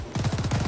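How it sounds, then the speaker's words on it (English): Period firearms in a World War II ArmA 3 battle fire in a short, rapid burst of about eight shots, punchy and fairly close, over in under a second. "shooting."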